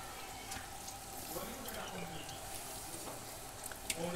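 Bhakri flatbread cooking on a hot griddle in a Konkan village kitchen gives a steady soft sizzle throughout, with faint voices and small clinks behind it.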